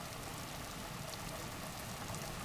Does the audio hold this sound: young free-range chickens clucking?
no